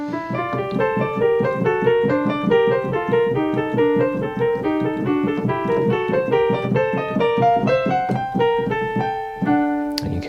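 A Bach fugue link passage in two interweaving voices, played alone on a keyboard instrument in a steady flow of clear, evenly spaced notes, loud and close.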